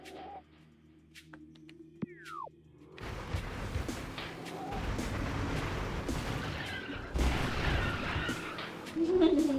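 Rockets fired in a video game: a sharp launch whoosh, then a roaring blast that settles into a rumbling wash, followed by further heavy booms near the end.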